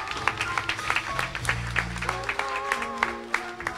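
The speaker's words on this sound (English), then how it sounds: "Give the Lord a hand clap of praise" A church congregation clapping hands in praise after worship, uneven rhythmic claps over sustained organ or keyboard chords, fairly close and moderately loud.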